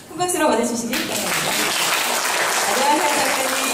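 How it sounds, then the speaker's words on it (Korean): A live audience at an event about Yi Sun-sin bursts into sustained applause to welcome author Kim Jong-dae onto the stage, a dense, steady wash of clapping that holds at full level after a brief spoken announcement at the start. "네, 큰 박수로 맞아주시기 바랍니다"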